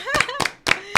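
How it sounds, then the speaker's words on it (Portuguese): A few scattered hand claps from a small group applauding performers, short bursts separated by brief gaps, with a voice speaking over the start. "Obrigada, aceito os aplausos"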